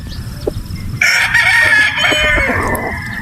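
A sweater gamefowl rooster on a game farm crows loudly and close, one long ringing cock-a-doodle-doo over faint background clucks and farm noise.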